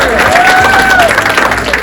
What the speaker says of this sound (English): So, a big clap for